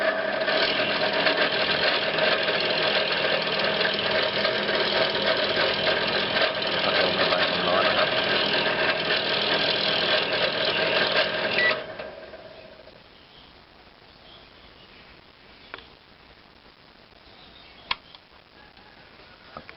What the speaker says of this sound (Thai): ก็คืออาการเสียงดัง ครับมาดูสาเหตุที่มีเสียงดังที่ใบพัดลมแล้วก็ จาน ไม่หมุนนะครับ